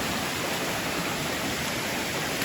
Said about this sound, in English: This is Ledbetter Creek that I'm hiking along.